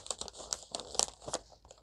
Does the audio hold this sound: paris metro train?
no